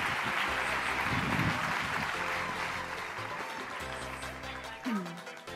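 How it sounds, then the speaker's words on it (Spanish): An audience at a technology conference applauds to welcome a journalist to the stage, a dense wash of clapping mixed with tonal background music, fading toward the end. "Un fuerte aplauso"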